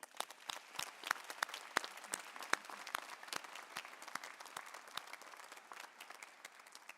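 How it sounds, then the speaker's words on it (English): Scattered audience applause at a Medical College of Wisconsin commencement ceremony in Milwaukee, sharp individual claps standing out over a steady patter, moderately distant and fairly quiet. "Your loved ones in the audience today deserve a special round of applause."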